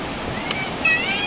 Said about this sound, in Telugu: that is the water fall